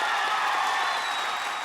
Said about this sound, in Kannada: ಹೊಡಿರಿ ಚಪ್ಪಾಳೆ ಹೊಡಿರಿ